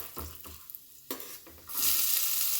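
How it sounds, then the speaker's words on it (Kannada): Curry leaves are dropped into hot oil with asafoetida for a ridge gourd stir-fry. A few soft utensil clicks and stirring scrapes come first, then a sudden loud, sustained hissing sizzle close by. "ಈಗ ಕರಿಬೇವಿನ ಸೊಪ್ಪು ಹಾಕ್ಕೊಳ್ತಾ ಇದ್ದೀನಿ"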